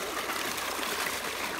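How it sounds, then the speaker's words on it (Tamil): Freshly picked ivy gourds are washed in water, giving a steady, close rush of running, splashing water that continues throughout, with no speech. "நம்ம அப்படியே தண்ணியில் வாஷ் பண்ணி எடுத்துக்கலாம்."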